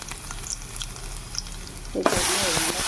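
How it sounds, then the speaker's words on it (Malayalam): Finely chopped onion with mustard seeds fries in a pan; a faint background crackle suddenly swells into a loud, close, hissing sizzle partway through, with no talking. "കടുകിൻ്റെ കൂടെ ഉള്ളി മൂത്ത് മൂത്ത് വരുന്നു"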